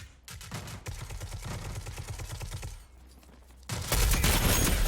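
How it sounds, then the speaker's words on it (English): A fast, steady burst of automatic gunfire in Rogue Company, rattling continuously for a few seconds, then a short lull before a louder, denser wash of shooting. "Shots."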